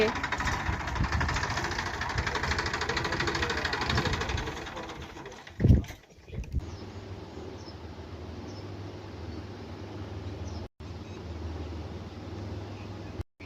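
A farm tractor's engine runs at a steady, fairly loud roar, then drops to a quieter, low, even rumble as it moves off, broken by a couple of brief gaps.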